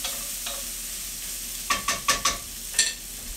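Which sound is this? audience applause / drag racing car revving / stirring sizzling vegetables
stirring sizzling vegetables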